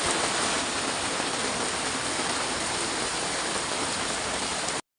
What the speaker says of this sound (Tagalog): Mas lumakas pa yung ulan dito sa amin